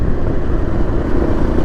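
A 2024 Yezdi Adventure motorcycle engine runs under load through a downshift at low road speed, a dense, steady mechanical drone with constant rumble and no talk.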